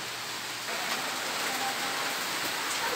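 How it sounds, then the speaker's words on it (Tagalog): Rain falling in wet weather around a home kitchen: a steady, even hiss of downpour that holds throughout, fairly close and unbroken, with no voices. "Ulan."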